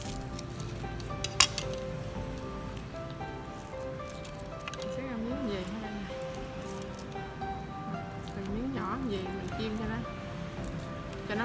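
Torn pieces of thawed, previously frozen tofu skin frying in a pan in a country home kitchen, a soft steady sizzle with occasional clinks, heard under continuous talking.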